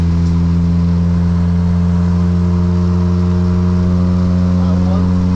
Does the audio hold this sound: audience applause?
no